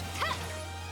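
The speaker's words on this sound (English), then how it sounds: "I want to fight that big dog." A large dog enemy in the video game Trails Beyond the Horizon gives a short, mid-loud bark over a steady low background hum, with no talking.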